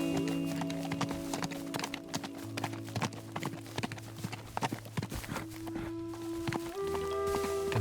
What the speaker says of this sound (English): indestructible horse across the bridge.